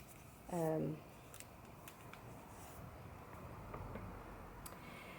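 Scissors snip through a plastic sheet protector, giving a few faint, close cuts and light ticks in a quiet indoor setting.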